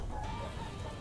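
Chicken clucking in the dungeon-building game Dungeons 4, a short steady fowl call heard alone over a continuous game background.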